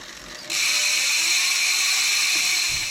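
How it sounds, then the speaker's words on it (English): A bicycle freehub with a 54-tooth star ratchet clicks rapidly and steadily as the wheel spins, a close, loud, continuous buzzing tick with no talk. "Listen to that 54 tooth star ratchet."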